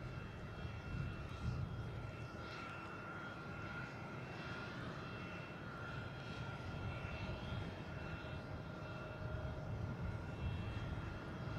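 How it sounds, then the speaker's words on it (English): A United Airlines jet takes off at Boston Logan, its engines a steady, broad distant roar that holds level throughout with no talk over it. "And United taking off."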